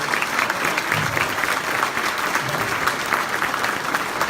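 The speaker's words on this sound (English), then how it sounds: "if everybody can come around him and just give him a round of applause." Applause from guests at an awards and dinner gala, a sustained round of many hands clapping in an indoor hall, steady and moderately loud with no speech over it.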